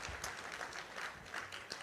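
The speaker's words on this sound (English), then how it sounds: "Give a big clap to Dr." Audience applause for Dr. GK at a presentation in the USA, a dense steady patter of many hands clapping throughout, moderately loud and continuous.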